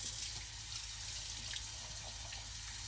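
Tap water runs steadily into a kitchen sink while glass canning jars are rinsed, a continuous close splashing rush with faint clinks and no talk.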